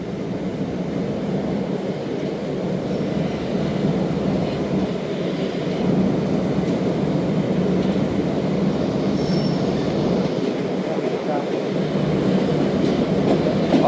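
The Khyber Mail express train rolls past near a station in Pakistan, a loud continuous rumble of wheels and carriages with faint clickety-clack and a brief squeal, steady and close throughout, with no talking.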